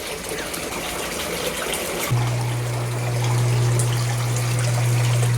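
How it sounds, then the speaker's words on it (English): A jacuzzi jet tub switches on partway through, adding a steady low motor hum over continuous gushing, bubbling water, close and loud. "I got the jet tub running now"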